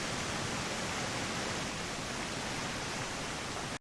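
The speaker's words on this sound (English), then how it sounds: "I've built next to a waterfall." A steady, dense rush of falling waterfall water fills the clip evenly from start to finish, loud and unbroken, in the survival video game Green Hell.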